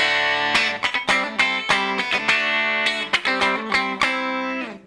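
A clean Enya Inspire smart guitar on bridge and middle pickups plays a flowing phrase of picked notes and chords with a bright, slightly hollow, glassy Fender-style twang, no voices.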